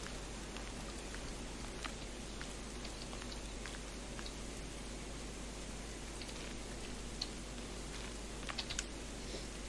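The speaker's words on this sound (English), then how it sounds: "All this rain today." Steady rain in the video game At Winter's End falls on a flooding pond, a constant hiss with scattered sharp droplet ticks, even and unbroken, no voices.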